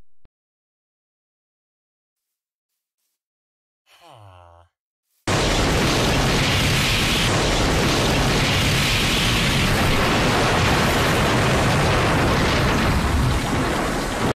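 A loud, sustained in-game blast as an arcade is blown up in a survival video game, hitting abruptly after a short silence and a brief burst, then roaring with dense crackling rumble that fills the rest of the clip.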